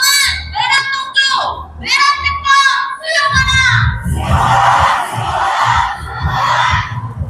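A protest crowd at a Gwanghwamun rally chants slogans, with several short rhythmic bursts of massed voices that swell into a loud, sustained roar of shouting and cheering.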